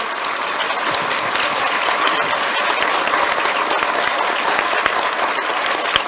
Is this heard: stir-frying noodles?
no